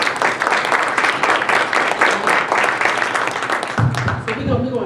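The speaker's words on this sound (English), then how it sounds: "Can we give another round of applause for Carlene?" An audience at a justice conference applauding a speaker, sustained dense clapping from a large crowd filling the room, then cut off as a voice begins talking.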